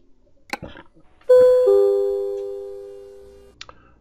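A bright two-tone chime from the Euro Truck Simulator 2 truck game sounds loud and clear after a few soft clicks. The second tone rings on and fades slowly over about two seconds.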